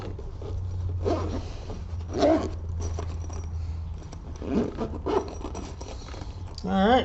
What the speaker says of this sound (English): in a second we'll zip it up and see how she sits